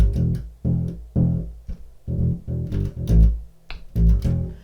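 Bass guitar plays a bass riff, a two-bar figure of short punchy plucked notes with gaps between phrases, close and clear with no talking.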